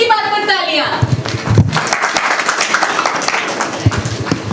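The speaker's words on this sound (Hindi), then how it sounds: "इसी बात पर तालियां" A TV show studio audience breaks into applause, dense clapping filling the stretch after a voice, loud and close.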